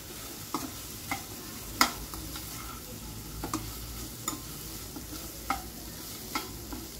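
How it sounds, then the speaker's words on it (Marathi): Fried bitter gourd stirred into a pan with ginger-garlic paste, with a steady sizzle under irregular spatula scrapes and taps spread through the clip, close and moderately loud, no talking. "आता याच्यात टाकणार आहे कारलं जे फ्राय करून घेतलं होतं"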